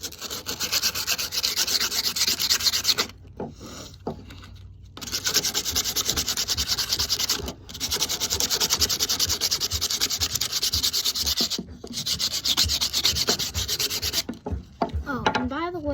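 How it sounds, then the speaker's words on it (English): An 80 grit sandpaper sheet rubs steadily over a wooden slingshot, making close, loud, continuous scratchy strokes that break off in short pauses and then resume. "what you want to get next is some sandpaper and sand it down"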